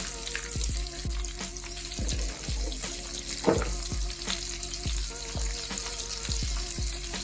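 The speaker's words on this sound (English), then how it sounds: "So we're going to add some onions into that." Onions sizzle loudly in a pan for braised oxtails and squash, a dense close frying hiss with regular scraping stirs and light clinks throughout, no voices.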